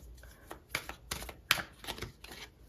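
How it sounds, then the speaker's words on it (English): Tarot cards being shuffled by hand, a run of close, crisp riffling and slapping bursts in an uneven rhythm, fairly quiet, with no talk. "let's pull some cards and get some details"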